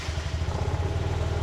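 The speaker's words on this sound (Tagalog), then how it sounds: "ang sarap talagang pakinggan nung pag-i-start ng makina" A tuktuk engine freshly serviced with an oil change runs with a steady, smooth low throb and even pulsing rhythm, close and fairly loud, with no talk.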